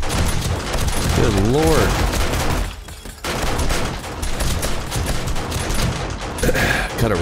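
Automated base turrets fire in dense, sustained bursts in 7 Days To Die on a horde night, close and loud, with a brief lull partway through. Someone talks over the shooting.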